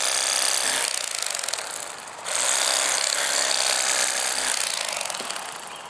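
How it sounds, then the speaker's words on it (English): A cordless lithium-ion Bubba Blade electric knife saws through channel catfish ribs, giving a loud, steady mechanical buzz that briefly drops off near the two-second mark before resuming, with no talking. "it's so much faster and easier to cut through the ribs and then cut the ribs out as a second step"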